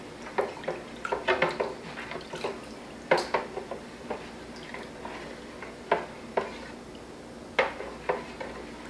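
Hair toner is stirred into water in a small bowl, with light, irregular clinks and wet swishes close by, spaced out in bursts against a quiet background with no talk.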